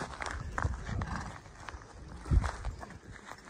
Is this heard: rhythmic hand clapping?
no